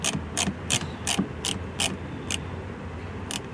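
A ratcheting driver with a Torx T15 bit snugs a screw on a 2018-2023 Ford Mustang part, with a series of sharp, close clicks coming in uneven bursts over a low background hum.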